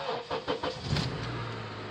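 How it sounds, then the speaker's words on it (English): A car engine cranks with a few rhythmic starter pulses, then catches and settles into a steady idle, close by. "We're going to start the car"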